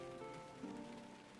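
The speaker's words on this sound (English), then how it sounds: "even though you don't believe me about the rain, I still hear it gently tapping on the window panes." Rain patters softly on window panes in the Skyrim game world, a faint steady wash of light tapping under a low ambient hum.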